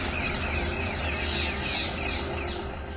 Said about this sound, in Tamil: நுழைவாயில இருந்த மரத்துல இருந்து மைனாக்கள் கத்துற சத்தம்